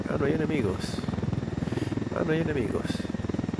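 A helicopter in the video game Ghost Recon Wildlands throbs steadily with a rapid rotor pulse, loud and close, while someone speaks briefly over it.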